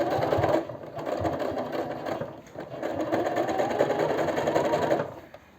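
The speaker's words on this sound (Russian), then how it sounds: "Одновременно пристрачиваю так по кругу." A sewing machine runs a long straight stitch around the waistband of a pair of jeans. It whirs steadily and loudly in two close, continuous bursts separated by a short pause near the middle.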